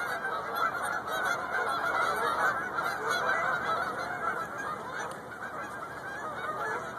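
A large flock of geese honks continuously beside a frozen lake, a dense overlapping chorus of calls at moderate distance with no talking.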